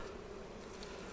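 Honey bees buzz in a dense, continuous hum during a hive inspection, close and steady without talk.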